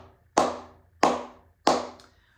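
Three cupped-hand flamenco palmas sorda claps, muted and hollow, spaced evenly at a slow, steady pace, close and alone with short decays.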